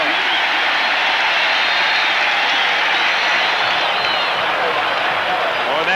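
A 1984 NFL stadium crowd at Kansas City cheering and applauding during a Raiders game, a loud sustained roar of voices and clapping that holds steady throughout, with a commentator talking over it.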